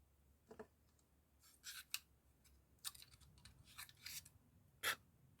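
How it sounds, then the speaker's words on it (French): A small metal cutting blade is clicked and slid back into its holder in a handful of short, sharp scraping snaps, close and quiet, with silence between them. "On replace la lame, si possible, dans le bon sens, Isabelle."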